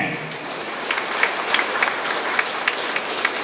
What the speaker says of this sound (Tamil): கைத்தட்டுங்க உங்களுக்கு.